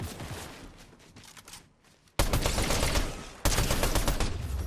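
Rapid automatic gunfire in Fortnite bursts out loud and dense, with a quieter patter of shots first, then two abrupt, sustained volleys.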